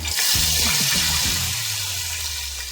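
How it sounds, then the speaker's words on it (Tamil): Water poured into a hot pan of ghee-fried cumin seeds, a loud gushing splash and hiss at the start that settles into a steadier, fading bubbling sizzle, close by and without voices. "ஜீரகம் நல்லா இந்த அளவுக்கு பொறிஞ்சு வந்து தண்ணி சேர்த்துக்கலாம்"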